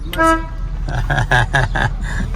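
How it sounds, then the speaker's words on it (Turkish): A car horn honks in a series of short, loud toots, the first one longer, close by with engine rumble underneath. "Kornanın sesine bakın."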